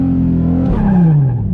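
A car engine revved hard during drift practice, a loud close roar whose pitch holds high and then sags steadily downward as the throttle eases off, with no talk.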